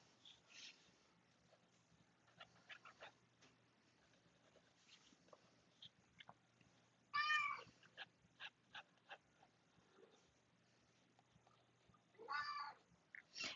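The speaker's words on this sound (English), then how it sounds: "You might be able to hear my cat in the background." A pet cat meows and cries intermittently indoors, with a short burst near the start, a louder close call around the middle and another toward the end over a faint low hum.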